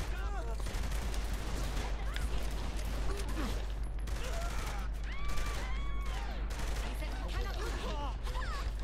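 Pistol gunfire in the video game Saints Row The Third, rapid shots ringing out over continuous game noise with a steady low hum, fairly loud throughout and mixed with other in-game sounds.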